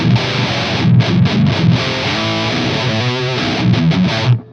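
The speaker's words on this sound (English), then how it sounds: "the distortion has a certain sandy texture" A Mesa 4x12 cab carries a lightly driven electric guitar with a gritty, sandy edge. The chords and riffs are choppy, with short stops between strums, and the tone cuts off abruptly at the end.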